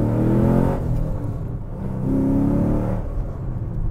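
A car engine holds near 5,000 RPM on launch control, giving a loud, close, buzzing rev that dips and swells twice over a few seconds, with no talk.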